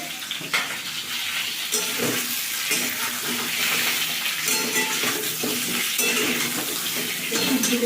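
Pointed gourd is fried in a pan for a village-style sukto, with a loud, continuous oil sizzle close by and repeated scraping and clattering strokes from the stirring.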